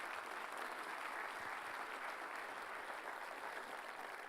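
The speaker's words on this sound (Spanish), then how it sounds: "Un aplauso para ellos," A church congregation claps together in a continuous, uniform wash of applause that sounds somewhat distant and stays soft and steady throughout.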